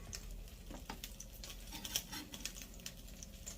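Garlic fries in a pan over lowered heat, giving a quiet, even sizzle and crackle with light scattered ticks and a faint utensil tap, close and low in level, with no voices.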